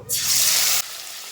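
Chopped tomato with green chilli dropped into hot oil in a pan for mustard fish curry, bursting into a loud, bright sizzle that cuts off abruptly, leaving a quieter hiss.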